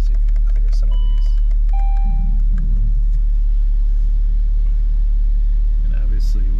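A Saab 9-3 Turbo in a shop is put into reverse and driven. A heavy, low engine rumble holds steady under several electronic warning beeps and chimes, and a voice talks briefly.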